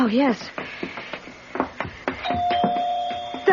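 A doorbell rings in a radio drama, a clear sustained electric chime following a short exchange of voices, with people talking before and around it.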